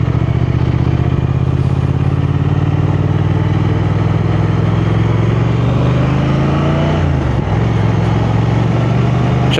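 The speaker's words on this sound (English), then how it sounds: "you can hear it pop and crackle" A Triumph Thruxton 1200 motorcycle engine runs loud and close, holding a steady note that drops toward the end, with faint pops and crackles from the exhaust.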